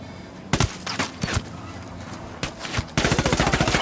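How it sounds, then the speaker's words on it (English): Gunfire in Ghost Recon Wildlands: a few sharp single shots, then a steady rapid automatic burst near the end, loud and close over a low game ambience. "I'm opening fire."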